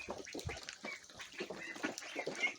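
Ducks quacking and chattering close by in a busy, continuous flock, with bursts of calls overlapping one another.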